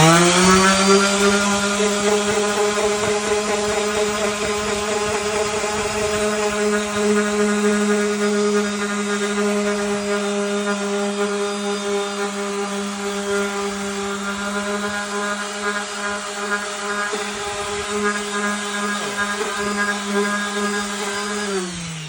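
A dual action sander fitted with 600 grit paper working an aluminum wheel: a loud, steady motor whine with a strong buzzing hum that holds constant for the full stretch, easing slightly at the end.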